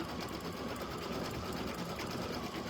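An industrial sewing machine, its motor speed turned down, stitches a stuffed toy project with a steady, fairly quiet whirring hum and a fast, even chatter that carries on without pause.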